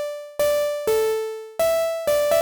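Serum synth pluck with a noise layer whose level is shaped by an envelope at 60, four to five bright tonal notes in a row, each with a sharp attack and decaying tail under a hiss of noise, played alone.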